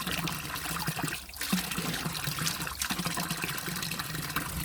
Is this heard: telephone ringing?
no